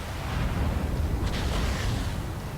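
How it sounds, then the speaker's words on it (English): Incoming missile explosion in the MechWarrior 5 Mercenaries video game, a dense rumbling blast that holds loud and low for a couple of seconds with a brief sharper burst in the middle. "Incoming missile."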